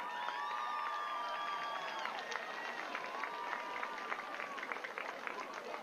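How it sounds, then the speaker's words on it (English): A stadium crowd at a South Carolina high school football game applauds and cheers the homecoming court, a steady wash of clapping with shrill whoops and whistles carrying over it, distant and sustained. "let's have a big round of applause for our entire homecoming court this year"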